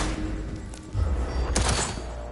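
Rapid gunshots at a target practice range in Cyberpunk 2077, a dense close burst of several reports against a noisy game background, with no talk over it.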